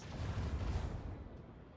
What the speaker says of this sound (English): Commence the symphony of macro cannons!